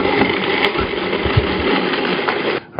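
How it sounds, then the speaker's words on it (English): A grinder works a seasoned pork mixture for McRib-style patties, a steady close whirring motor drone with slight fluctuations that cuts off abruptly near the end. "Then we grind it up."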